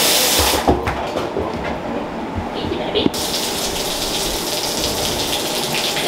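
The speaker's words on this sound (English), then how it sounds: "I'm gonna start off literally spraying over here." A hose sprays water steadily over a yearling horse during its first bath, a broad continuous hiss that brightens and gets louder partway through, while a person talks softly to the horse.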